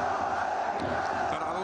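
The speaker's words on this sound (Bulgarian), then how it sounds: "Радост за публиката на домакините" Home supporters roar and cheer in a packed Beroe stadium during a football match, a steady, dense crowd noise that carries evenly throughout without a break.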